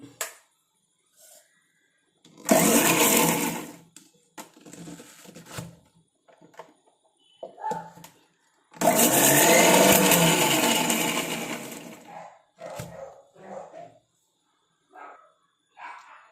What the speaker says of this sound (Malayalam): നമുക്ക് ആദ്യം ഒന്ന് കറക്കിയെടുക്കാം